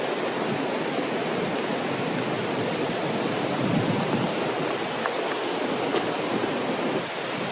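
Waterfall rushing in stormy, wet winter weather during gale-force wind and heavy rain, a loud, continuous broadband roar of falling water that stays steady and close the whole time.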